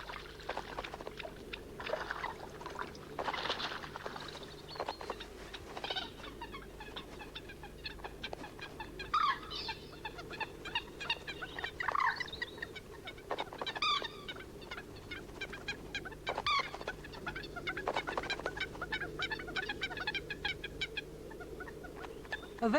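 Mated bird pairs on Essex banks fight rival couples for nesting territory, a busy stretch of harsh squawks and clucking calls, some close and some farther off, over a steady low background hum.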